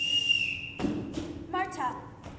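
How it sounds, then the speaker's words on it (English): A shrill whistle blown in a family house to call the children sounds first as a steady piercing tone, then after a thud comes a quick trill of short warbling blasts, close and loud. "Everyone in this house answers to a whistle."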